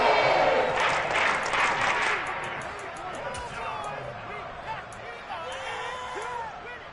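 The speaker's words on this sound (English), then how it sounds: "Some applause for the defense there." Stadium crowd at a Lions football game applauding and cheering after a defensive stop, loudest in the first two seconds and then settling into a steady roar, with a commentator talking over it.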